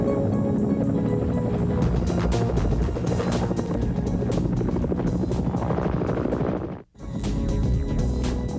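A search and rescue helicopter thunders close by with a steady loud rotor chop, briefly cutting out near the end before the roar returns.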